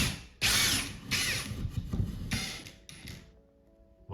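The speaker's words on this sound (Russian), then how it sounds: "Сейчас будем сверлить." A power drill bores into a wall indoors while a stove-fireplace is being installed, running in loud bursts with short pauses and then fading into quieter mechanical clicks.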